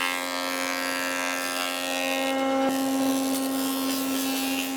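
A woodworking jointer runs in a furniture workshop, giving off a steady, loud mechanical hum with a constant pitched drone and faint rubbing texture throughout, nearby and without speech.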